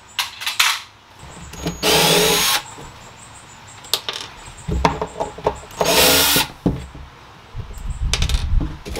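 Power drill driving screws into a metal file cabinet, heard in two sustained whirring bursts with scattered clicks, clanks and handling knocks between them, fairly close and with no talk.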